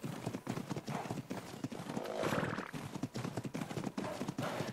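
Horse hooves clip-clop in a steady, fairly loud rhythm in the ARK survival video game, with a brief whinny-like swell midway and a faint voice underneath.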